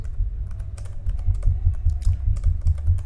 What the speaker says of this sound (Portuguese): Tô digitando devagar hoje.